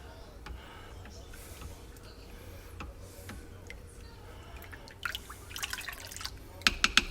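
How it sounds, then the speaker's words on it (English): Yogurt being stirred in a crock pot gives soft, quiet liquid swishes and faint scrapes, ending with a few sharper clinks of the spoon against the pot. "we're going to stir the crock pot as well and get our yogurt distributed"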